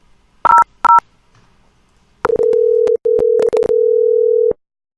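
Phone line tones while calling an IVR system from a VoIP softphone on localhost: two short dialing beeps, a pause, then a series of longer steady tones broken by brief gaps, clean and loud with no talk.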